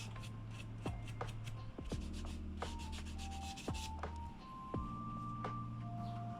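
Sponge sandpaper rubs back and forth over the frets of a fifty-year-old Japanese vintage guitar, the fingerboard masked with tape, a steady close scratchy rasp in repeated strokes with occasional small knocks.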